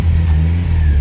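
A Lotus Elan M100 engine revving up close, a loud, steady mid-pitched drone that holds for a moment, dips briefly, then pulls on again, with no voices.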